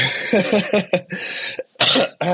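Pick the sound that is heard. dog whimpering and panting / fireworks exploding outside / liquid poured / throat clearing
throat clearing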